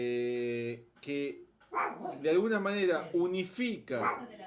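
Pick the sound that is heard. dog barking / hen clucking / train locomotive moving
dog barking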